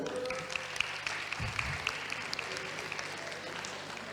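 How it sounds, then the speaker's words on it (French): An audience applauds at a student tourism and leisure careers event, a steady sustained patter of many hands clapping at moderate distance with a few sharper individual claps standing out. "Alors sous vos applaudissements"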